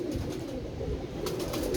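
A pigeon coos softly and repeatedly, close by, with a low rolling murmur that carries on throughout at a modest level, no voices over it.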